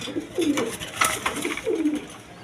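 Rajgolla pigeons coo close by in repeated low, rolling calls, two or three phrases over a faint background rustle.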